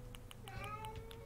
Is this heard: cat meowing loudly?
yes